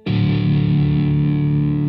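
A sustained chord strummed on a microtonal kite guitar through heavy distortion, loud and close, a single ringing attack held steadily for nearly two seconds with a faint wobbling shimmer.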